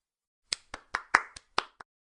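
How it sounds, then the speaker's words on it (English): Seven sharp hand claps ring out one at a time, close and crisp, in an uneven rhythm over about a second and a half, each one isolated against silence. "Emma clapped and laughed"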